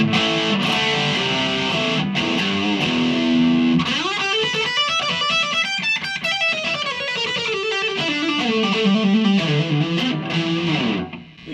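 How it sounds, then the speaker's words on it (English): A heavily distorted electric guitar plays chords and a descending riff through a Marshall MG15 amp, loud and saturated with a thick, crunchy tone, no voices. "It's just got certain character to the distortion that's different than other things."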